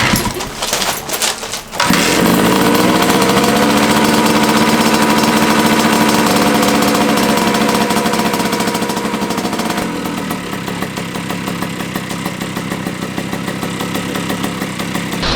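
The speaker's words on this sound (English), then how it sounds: "Let's go ahead and start her up." A 1982 Honda MB5 motorcycle engine cranks for a moment, then fires into a loud, steady, buzzing idle that settles slightly lower and continues up close without pause.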